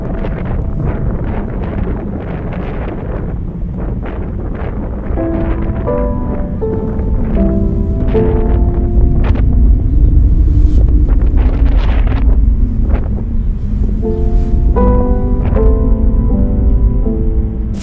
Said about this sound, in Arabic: لسوء الحظ تصادف الوصول ديالي مع عاصفة رملية كبيرة